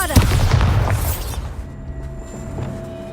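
Bombarda, an explosion spell in the video game Hogwarts Legacy, goes off in a loud, heavy boom that rumbles for over a second and then fades into a quieter, ringing tail.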